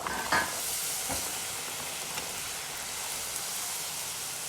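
Poori dough slid gently into hot oil bubbles and fries with a steady, fairly loud sizzling hiss, broken by a couple of brief crackles near the start.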